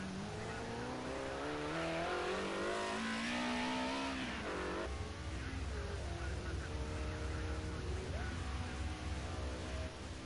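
Group A touring race car at Oulton Park circuit, engine revving and whining on track with a brief tire squeal, moderately loud and continuous, with a low rumbling engine drone underneath.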